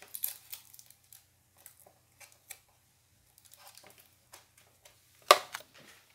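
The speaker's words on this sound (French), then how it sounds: "Je remets le scotch." Adhesive tape is pulled loose and pressed back onto a toy car, making short crinkly rips and sticky peeling sounds in sparse, close bursts with quiet gaps, and a louder tear near the end.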